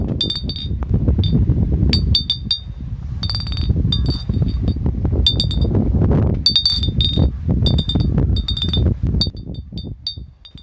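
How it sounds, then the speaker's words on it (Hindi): A glass bottle hung from a stick in a field as a crop scarer, with an iron nail inside striking it: bright repeated clinks and tinkles come in irregular clusters over rustling wind and background noise, fairly close and loud. "एक डंडे की सहायता से उन्होंने बोतल को लटका दिया है, जो कि बोतल कांच की है और उसमें एक लोहे की कील भी लगी है"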